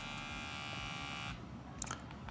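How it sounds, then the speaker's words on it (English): A Meridian USB-C electric shaver, used as a body trimmer, runs with a loud steady buzz for over a second and then cuts off. A few faint clicks follow against quiet background noise. "I do have this other shaver from a company called Meridian, and this one has USB-C."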